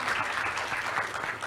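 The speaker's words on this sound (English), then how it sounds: "can we get a round of applause for our panelists for answering some very courageous questions?" Brief, even applause from an audience at a public dialogue event, clapping for the panelists at a moderate, somewhat distant level.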